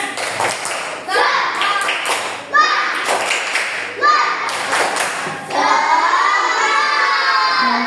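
Schoolchildren in an Indonesian classroom clap and shout together in a rhythmic group cheer, with loud bursts of claps and voices in a quick pattern, then a sustained chorus of young voices near the end.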